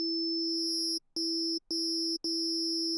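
A steady low FM synth sine wave with distortion and bright high overtones, stopping and restarting in four even bursts with short gaps, no voices.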